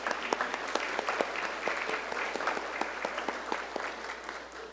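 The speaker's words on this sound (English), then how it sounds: "can you please join me in giving Lisa another round of applause?" An audience at a children's commission funding event gives Lisa a round of applause; individual claps ring out distinctly in a moderately sized crowd, steady and even throughout.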